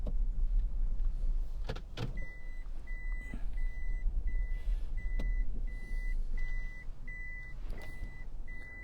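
A car is parked outdoors on a chilly 50-degree day. A low engine hum runs throughout, with a few short mechanical clunks and a steady run of evenly spaced high warning beeps in the background.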